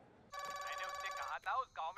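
A telephone bell rings in a domestic scene, a bright electronic trill sounding continuously and then breaking into shorter bursts, close and fairly loud.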